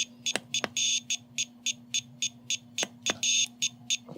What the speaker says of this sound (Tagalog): Pero nag-a-alarm na siya.